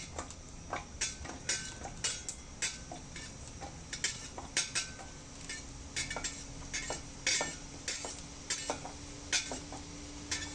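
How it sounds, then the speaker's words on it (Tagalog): Garlic, onion, ginger and chili go into a pan with coconut milk for a shrimp dish, heard as repeated close metallic clinks, taps and scrapes of a utensil against the pan over a steady background hum. "Ilalagay ko na ang ating bawang, sibuyas, luya, at saka yung sili."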